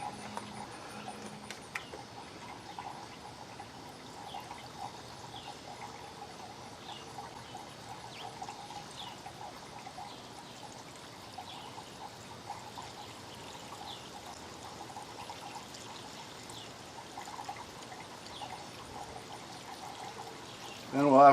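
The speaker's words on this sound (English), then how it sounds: "We'll go ahead and refill it now." Coolant being poured into the cooling system of a 2005 Toyota Highlander, a faint steady trickling pour that runs continuously and quietly, with some talk in the background.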